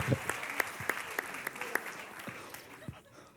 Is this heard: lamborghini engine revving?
no